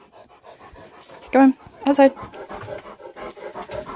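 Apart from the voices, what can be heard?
dog panting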